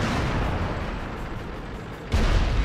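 A tank's main gun fires during a World of Tanks clan wars battle: a deep, heavy boom lands near the end over a constant loud rumble of combat noise, with no voices.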